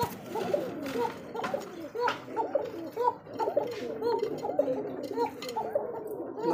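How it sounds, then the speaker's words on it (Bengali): Koka pigeons cooing nearby: rhythmic, repeated throaty coos in quick succession that rise and fall almost without pause, over a quiet background. "দেখি কবুতরটা একটু ডাকানোর চেষ্টা করি কতটুকু ডাকে।"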